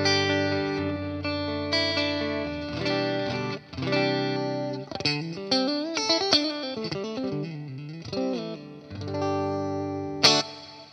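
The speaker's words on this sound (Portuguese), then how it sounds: "Próximo som que temos aqui é um som de Fender Twin Reverb, então um som super limpo." Clean electric guitar tone modelled on a Fender Twin Reverb in a Cuvave Cube Baby, played through a Fender 1x12 cabinet: sustained chords and melodic runs with bright, shimmering harmonics, played alone and loud throughout.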